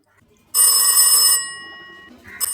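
A phone rings with an incoming call, sounding as a loud electronic bell burst that stops abruptly, leaving a fading tone before a second burst begins at the end.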